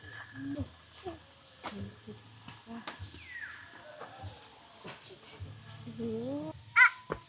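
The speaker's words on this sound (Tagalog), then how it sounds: "There's the bird." A bird calls on a farm, a few short caws heard amid quiet outdoor ambience, with a sharper loud cry near the end and a person talking softly in between.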